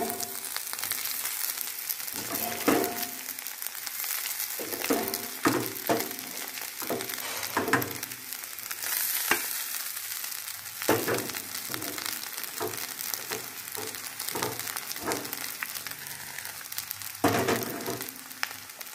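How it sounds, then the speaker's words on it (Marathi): Kanda poha, flattened rice with onions, frying in a pan: a continuous close sizzle broken by repeated scraping stir strokes, with no talking. "आता त्याच्यामध्ये मी पोहे घालणार आहे."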